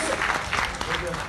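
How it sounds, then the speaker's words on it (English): An audience at a university workshop gives a brief round of applause, a dense, loud patter of many hands with talking mixed in. "Round of applause to everyone."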